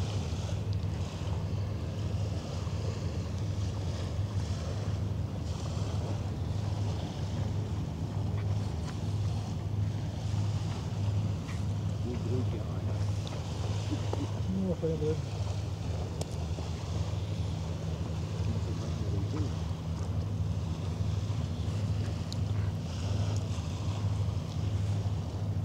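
Vessel number 95 sails home on the Elbe on a summer evening, a low steady engine hum carried under constant wind and water noise throughout.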